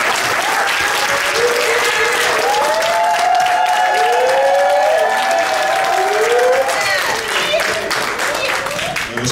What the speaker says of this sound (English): let's clap our hands for our youth